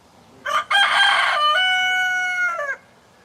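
A single loud rooster crow rings out nearby, a bright harsh call that holds a long steady note before breaking off.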